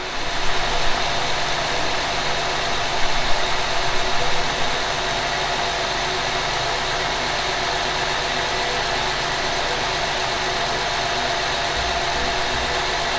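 A 2013 Acura MDX engine runs steadily during a battery charging test, a loud continuous idle hum and broadband whir with no talk and little change throughout.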